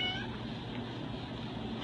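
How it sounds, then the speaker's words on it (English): A shelter cat meows softly amid steady indoor background noise, a brief plaintive call with no speech over it. "No, Yoshi's meowing."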